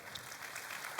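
Audience applause at the Bitcoin 2021 conference during a panel on onboarding people to Bitcoin, a soft, steady patter of many hands clapping, fairly distant and continuous for about a second.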